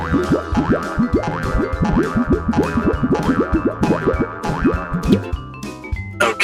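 Cartoon boing effects sound over and over as someone jumps on a box in a kids' Star Wars stormtrooper scene, with springy bouncing tones repeated rapidly over busy background music.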